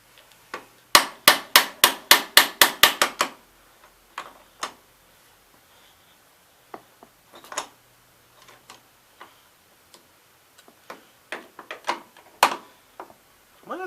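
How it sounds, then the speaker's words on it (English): A rapid burst of about ten sharp metallic hammer strikes rings out close by on a 1967 Gravely 430 tractor transmission, followed by scattered single taps and clanks after a pause. "You guys want to hand me the hammer?"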